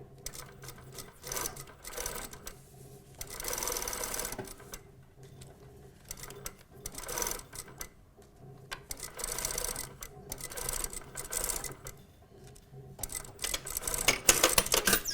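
A sewing machine stitches a slanted side pocket and back tacks, its motor whirring in repeated bursts separated by short pauses for pivoting, fairly close and steady, with no speech.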